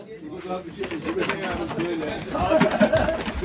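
Tumbler pigeons coo softly in repeated low warbling calls, close by, while people talk over them at a pigeon auction in Ankara.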